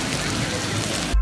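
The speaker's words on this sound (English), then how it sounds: "It's raining." Rain falls steadily outdoors on a city street in the NoDa district of Charlotte, North Carolina, a dense, even hiss of drops on hard surfaces, loud and close, ending in a brief low thump.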